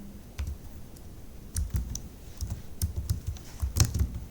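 Keys clatter on a computer keyboard as a to-do list task is typed into a Python PyQt5 app, in short irregular bursts of crisp clicks that grow busier toward the end, close and alone without talk.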